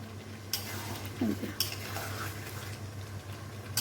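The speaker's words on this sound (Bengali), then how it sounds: "ঠিক আছে, একটু নাড়াচাড়া করে নিই।" Biryani seasoned with garam masala being stirred in a rice cooker, a soft continuous sizzle with scraping stirs and a few light clinks of a utensil against the pot, close up, no speech.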